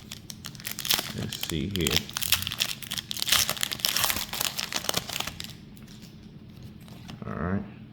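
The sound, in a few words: opening Pokémon card booster packs, foil wrappers crinkling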